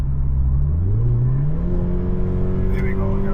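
Toyota 86 boxer engine in sport mode revving and accelerating, a loud continuous rising drone heard from inside the car as pitch climbs steadily with each gear, no talk over it.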